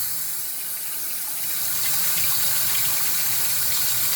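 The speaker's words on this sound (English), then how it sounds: "run some hot water in it." Hot water runs steadily into a cast iron pan, a constant broadband rush that swells slightly louder partway through, with no voices.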